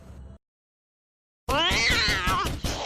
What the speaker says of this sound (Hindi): तभी उन्हें मुर्दाघर के अंदर से बिल्ली रोने की आवाज सुनाई दी।